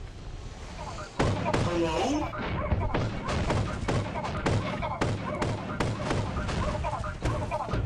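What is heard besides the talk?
gunfire, a gun's magazine emptied, from video game Lethal Company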